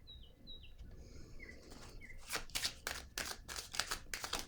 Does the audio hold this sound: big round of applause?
no